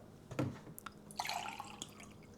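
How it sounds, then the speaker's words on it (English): Water being poured from a cup while aquascaping an aquarium planted with lotus seeds: a brief splash, then a close, soft trickle and drips, alone and fairly quiet. "So I'm just gonna pour the water into this cup,"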